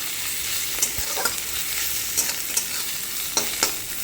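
Black cumin, crushed garlic and onion fry in a little oil for a home-style Bengali fish curry, a steady close sizzle with occasional light scrapes of stirring and no talking.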